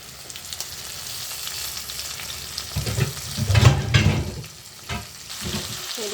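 Chopped tomatoes go into a pan of frying flat beans and potatoes, and a steady sizzle swells into a louder burst of hissing and stirring before it settles back to a gentler fry.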